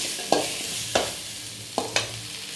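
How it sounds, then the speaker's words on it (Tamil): Sliced onions and tomatoes sauté in a pan for an eggplant tamarind curry, with soft sizzling under four brief scraping stirs, close and fairly quiet. "தக்காளி போட்டு நல்லா வதக்கிக்கணும்."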